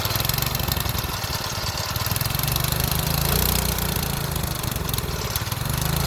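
A small, once-seized engine runs loudly and continuously at a rough, busy idle, its close mechanical drone and rapid firing filling the whole stretch without voices.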